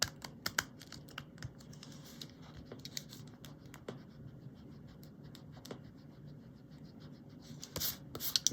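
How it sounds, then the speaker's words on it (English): An eraser rubs out pencil marks on paper during colored-pencil shading, giving close, scratchy, irregular bursts of friction with brief pauses between strokes. No one speaks. "Let's rub out that pencil I've just put in."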